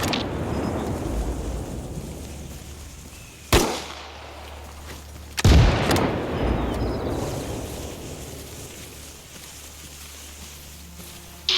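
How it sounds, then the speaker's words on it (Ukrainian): Two sharp, loud sniper rifle cracks in the video game ARMA Reforger ring out a couple of seconds apart, each trailing into a long echoing decay, with no talking. "Стріляє снайпер"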